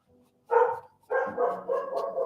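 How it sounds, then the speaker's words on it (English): A dog barks in the background of an indoor painting session: one bark, a short pause, then a longer string of muffled, repeated barks at moderate distance. "my dog's barking in the background"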